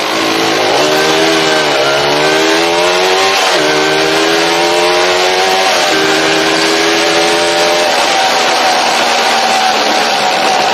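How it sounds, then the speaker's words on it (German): A motorcycle engine is kick-started at a Thai petrol station, then runs loud and close throughout with repeated throttle blips, its pitch climbing and dropping in several revving surges. "Ich habe einen Kickstarter, zack."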